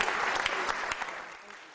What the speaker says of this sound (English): Can we give a round of applause for the young boy, please?